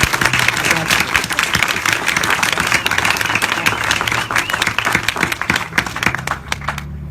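Audience applauding a synagogue building committee at a ribbon cutting, dense loud clapping from a large crowd that holds steady then thins toward the end.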